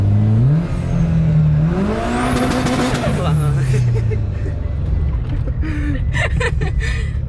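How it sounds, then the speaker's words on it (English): A DSM/Evo manual-transmission car engine revs up and down loudly, with pitch rising and falling unevenly while a learner driver works the clutch, and people talk over it. "you gave it a little too much clutch. So you were giving it a lot of gas, and you had a clutch in still."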